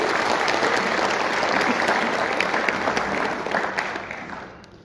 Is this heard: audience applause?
yes